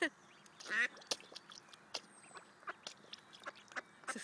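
Ducks being fed by hand give scattered nasal quacks and excited squawks at close range, with splashing and pecking noises between calls over a quiet outdoor background.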